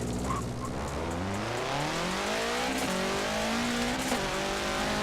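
A Forza Motorsport 7 engine in a 700 hp VW Type 3 drones and revs upward steadily, a deep, gruff, diesel-like tone climbing in pitch as it accelerates.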